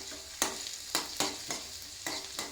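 Chopped garlic and ginger sizzle in hot sesame oil while being stirred, a quiet steady frying hiss broken by several brisk scraping strokes about every half second.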